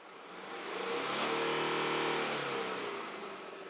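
A Toyota Vigo pickup engine is revved during a black smoke emissions test, rising smoothly to a sustained high-rev roar and then easing off, heard up close with no talk.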